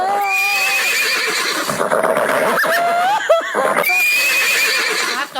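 A horse whinnies repeatedly in long, wavering high-pitched neighs, loud and close, with short snorting breaths between calls.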